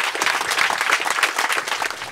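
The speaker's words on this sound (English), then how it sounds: "I just want to give Todd Nicely a big round of applause." An audience at a home dedication ceremony gives a steady round of applause, close and full, with dense overlapping claps throughout.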